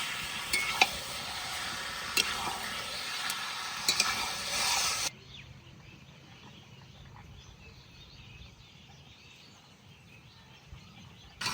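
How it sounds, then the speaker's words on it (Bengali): Chicken meat with spices sautéed in a pan over a wood fire, with loud stirring scrapes and sizzling for the first few seconds, then a quieter low simmer with faint birdsong in the background. "মাংসটা একটু কষিয়ে নিই, তারপর লবণ আর হলুদ দেবো।"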